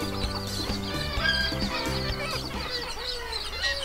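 A noisy seabird colony calls constantly, with many overlapping squawks and clucking cries close by and moderately loud.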